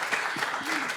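Applause breaks out from an audience at an interview event honoring a psychology researcher, a steady patter of clapping that fills the short moment with faint voices mixed in.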